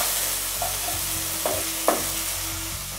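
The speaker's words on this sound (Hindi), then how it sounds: "इसे मैं 2 मिनट फ्राई करूँगी ताकि लहसुन अदरक का कच्ची महक जो होती है वो चली जाए" Garlic and ginger fry in a pan with a soft continuous sizzle, punctuated by a few light scrapes and taps of a spoon stirring, fairly quiet and close with no talking.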